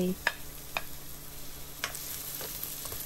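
Red shallots stir-frying in hot vegetable oil over medium heat, a quiet background sizzle broken by a few sharp clinks and scrapes of a utensil against the pan.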